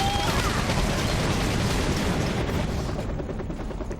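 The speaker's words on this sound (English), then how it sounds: "we can see the T-copter that just dropped the infantry being shot down by a couple of anti-air vehicles" Sustained rattling fire from a couple of anti-air vehicles shooting down a T-copter in Battalion Wars, a dense continuous barrage of shots that thins out toward the end.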